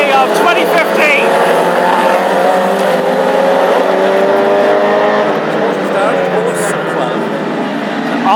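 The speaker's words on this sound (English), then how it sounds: "And we are away and racing for the Irish Grand Prix of 2015." Classic hot rod race cars roar away at the start of the 2015 Irish Grand Prix final at Tipperary, their engines forming a loud sustained blare with shifting pitch, and an excited commentator talks throughout over the noise.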